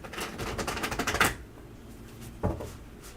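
Tarot cards being shuffled, a dense run of quick riffling clicks and flutters for over a second, then a quieter pause broken by one brief shuffle burst, close and fairly clear with no talk.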